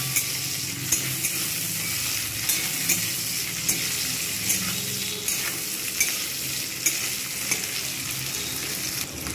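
Tomatoes and green chillies fry with browned onions in a pan, a continuous sizzle with regular scrapes and knocks of a spatula stirring every second or so, close and without talk.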